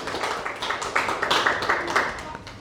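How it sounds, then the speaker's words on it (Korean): A church congregation at a New Year's Eve service claps together in quick, even rhythm, a busy wash of hand claps with faint voices beneath. "정리의 박수."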